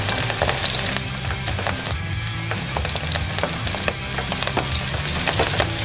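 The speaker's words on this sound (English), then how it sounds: "There we go, frying away nicely." Steady crackling sizzle of pork frying in hot oil for thrice-cooked pork, loud and close with occasional pops and stirring sounds.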